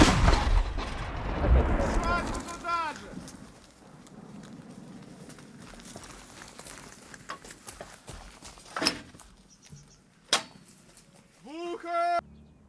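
A heavy artillery shot booms open, rumbling and fading, followed by further sharp distant bangs amid shouting voices and clatter during combat in the war in Ukraine.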